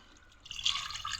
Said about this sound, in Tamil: இப்போ தண்ணி ஊற்றியாச்சு